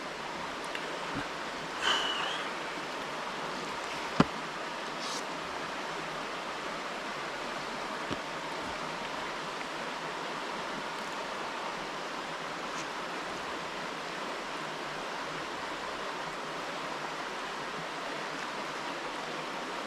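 A creek flows at night under a clear sky, a steady broadband rush of water with a few faint clicks and knocks scattered over it, and no voices.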